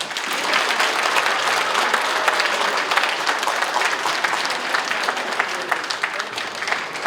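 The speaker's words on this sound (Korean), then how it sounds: "큰 박수 부탁드립니다." Sustained, dense applause from a large audience at a Korean lawyer's book launch and party leadership campaign kickoff, steady and loud for several seconds with no pauses.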